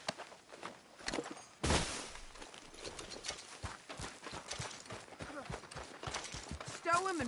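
Horse hooves in the video game Red Dead Redemption, a run of irregular clip-clops at mid distance mixed with other game sounds, while people talk over them.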